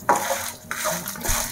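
Dried red chillies and lentils being roasted in a pan rattle and scrape under a stirring spoon, with short clattering bursts of dry ingredients moving against the metal.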